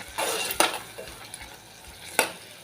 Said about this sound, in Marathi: आता हिरवं वाटण घातल्यानंतर आपण मिक्स करून घेऊया